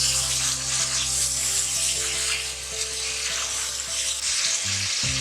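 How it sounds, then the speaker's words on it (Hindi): Meat sizzles steadily in a hot pan with garlic and turmeric, the loud frying hiss constant and close, with a low hum underneath that drops away near the end. "लहसुन और हल्दी की कचैन निकाल के हम इसके अंदर गोश्त ऐड कर देंगे तो अच्छी तरह फ्राई करेंगे।"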